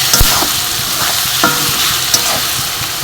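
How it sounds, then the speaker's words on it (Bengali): Garlic paste fries in oil, a loud dense sizzle broken by a few scraping stirs of a spoon across the pan. "এবার রসুনটাকে ভালো করে তেলে ভেজে নেব, যাতে রসুনের কাঁচা গন্ধটা না আসে"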